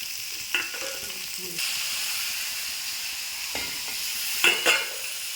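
Ground ginger and green chilli paste with cumin, coriander and chilli powder sautés in a pan, giving a steady loud sizzle and hiss with a few spoon knocks and scrapes.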